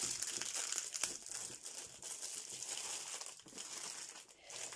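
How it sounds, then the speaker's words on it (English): Close, steady crinkling of plastic packaging, rustling continuously for several seconds with small crunchy bursts. "Have to have a bit of a crinkly noise for a second or two."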